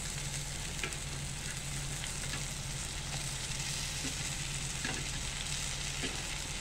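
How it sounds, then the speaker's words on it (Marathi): Potatoes fry in a pan with onion garlic masala, producing an even, unbroken sizzle with light crackles throughout, steady and moderately quiet, with no one speaking. "आता आपण बटाटे टाकतोय."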